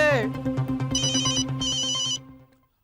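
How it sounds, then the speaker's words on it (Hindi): An electronic phone ringtone trills steadily for a couple of seconds, with a short tonal chirp at the start, then stops. "अरे फोन उठाइए मेहता साहब"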